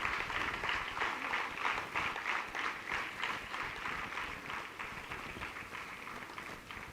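Audience applause at a foundation day award ceremony, a dense steady crackle of many hands clapping at moderate distance, sustained throughout without voices on top.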